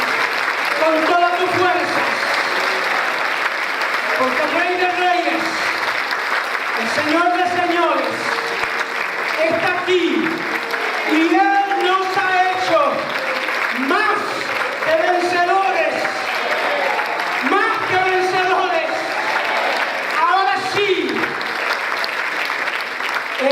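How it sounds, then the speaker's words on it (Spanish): Church congregation giving loud, sustained applause during a worship service, steady clapping throughout with voices and cheering mixed in. "Ahora sí demos un fuerte aplauso a la presencia de Dios."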